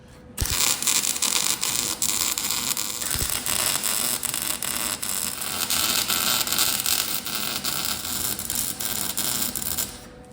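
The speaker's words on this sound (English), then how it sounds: "I just gotta weld it." Steel parts are welded for converting a 1969 Chevy C30 pickup into a 4x4 K30, producing a loud, continuous crackling buzz that holds steady for about ten seconds before cutting off.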